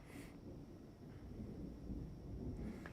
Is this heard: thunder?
yes